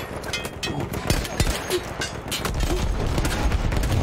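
Dense gunfire and explosive booms fill a Battlefield 1 battle, a continuous loud wash of shots with overlapping bursts and a voice talking over the combat.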